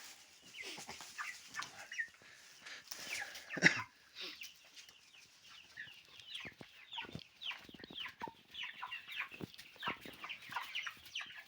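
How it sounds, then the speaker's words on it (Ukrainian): Several Cobb 500 broiler chickens cluck and squawk in irregular bursts, close by, with one louder cackle standing out partway through. "Отак наші і кури тут і проживають"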